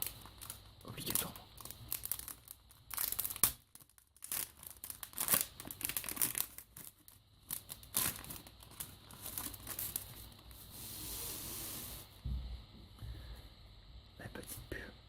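Foil booster packs of Kira Collection trading cards are torn open and crinkled up close, with soft crackling and rustling bursts under quiet whispered talk.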